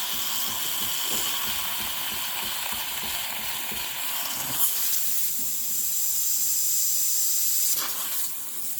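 A steamer hisses steam onto a 100-year-old Koa wood Martin acoustic guitar, a continuous close, loud airy hiss with a brief sharp burst near the middle and another near the end.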